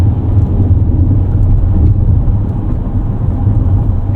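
A 2024 Mercedes-Benz eSprinter electric van drives in eco mode, a steady loud low rumble of road and cabin noise without a combustion engine note.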